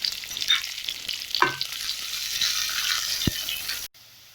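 Shallots, curry leaves and garlic sauté in a hot pan for a Tamil sundaikkai kulambu, giving a steady close sizzle with a few sharp clinks of a stirring spoon, then falling quiet near the end.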